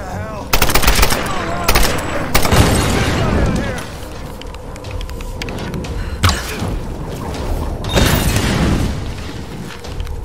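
Gunfire in the Tomb Raider video game: rapid automatic bursts and heavy booming shots crackle loudly and repeatedly, with brief lulls between volleys and occasional voices underneath.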